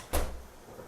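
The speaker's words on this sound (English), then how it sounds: "Close the door, boo." A door closes indoors with a single soft thud close by, followed by quiet room tone.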